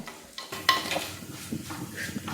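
Onion, ginger and garlic sautéing in a pan make a close sizzle that swells as a spatula stirs and scrapes through them, with a few clinks of metal and no clear speech.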